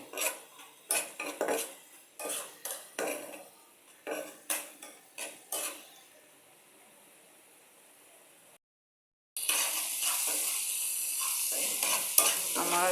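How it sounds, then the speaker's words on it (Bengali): Prawns stir-fried with spices in a pan, heard as repeated scraping clatters of a metal spoon against the pan over a soft sizzle, then a short silence followed by a steady, louder hiss of frying. "কষানোটা হয়ে গেছে মশলাটা চিংড়ি মাছগুলো কষিয়ে নিলাম"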